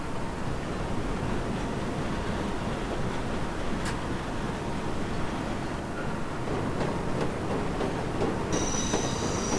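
Subway train in the World of Subways 4 video game running on rails, with steady loud rumble and wheel noise throughout, occasional clicks and a squealing tone near the end, no voices.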